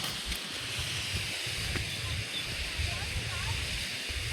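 Water pours down Pykara waterfall in a steady, continuous rushing roar, broad and unbroken throughout, with faint voices mixed in.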